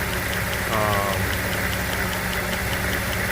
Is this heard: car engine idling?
yes